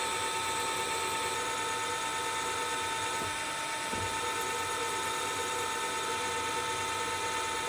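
A drill bit bores into a metal workpiece during a filing-shop practical with white coolant dripped on, giving a steady high whine throughout with brief dips around the middle as the bit is lifted and lowered.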